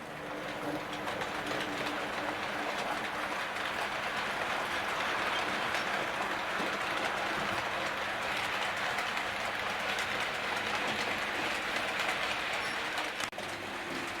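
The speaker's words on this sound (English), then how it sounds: "Here's the loco going behind the church and the rock." Hornby T9 Greyhound model locomotive running over a radius 2 curve and curved point on a model railway, giving a steady, moderately loud continuous whir and rumble with light rail clatter throughout, no talking.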